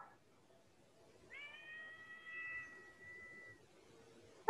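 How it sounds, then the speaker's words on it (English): A cat gives one long, drawn-out meow at moderate distance, thin and tonal against quiet background hiss, ending with a faint knock. "Oh, there's a cat over there."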